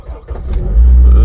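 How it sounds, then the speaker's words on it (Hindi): A car that sat unused for a week starting up: the engine cranks briefly, then catches and settles into a loud, close, low rumbling idle. "तो कई दिन बड़े दिन के बाद ये गाड़ी स्टार्ट कर रहे हैं"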